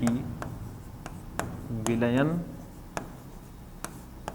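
A pen writing on paper, brief scratchy strokes and taps heard close up and mixed with a voice speaking over them.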